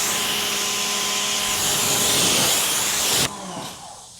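A quad fold DIY detail clay towel rubs over wet car paint with iron remover and soap, giving a steady close hissing scrub that cuts off abruptly, followed by faint residual noise.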